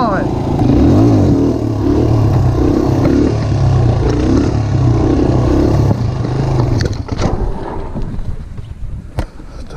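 A DRZ dirt bike ridden through desert, its engine revving in rhythmic loud surges in second gear for wheelies, then fading to a rough clatter near the end, with a rider's voice at times.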